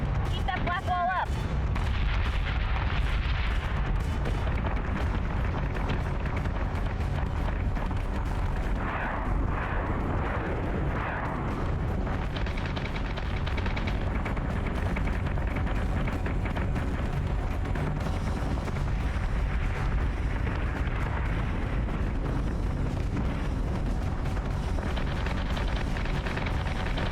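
Starship guns pound a target in the space game Battlestar Galactica: Deadlock, a loud, sustained barrage of booming shots and blasts that continues without a break.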